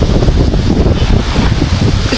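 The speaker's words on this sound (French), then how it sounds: "C'est pas comme si j'avais pas dit qu'il y avait du vent." Strong seaside wind buffets a microphone, a loud continuous low rumble and roar with gusty fluctuations and no voices.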